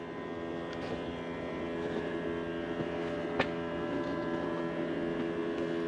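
A 2022 CAT 299D3 XE compact track loader engine runs with a steady, loud diesel drone rich in tonal hum, holding level throughout with a single sharp click midway.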